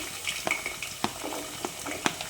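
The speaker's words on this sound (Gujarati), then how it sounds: "હવે એમાં પહેલાં બટેટા ઉમેરી અને એને તળી લઈએ।" Potatoes and beans frying in oil in a pan, a soft sizzle broken by a few sharp clinks and scrapes of a spoon stirring, close and fairly quiet.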